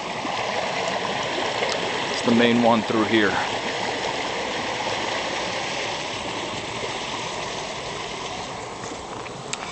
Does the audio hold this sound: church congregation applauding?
no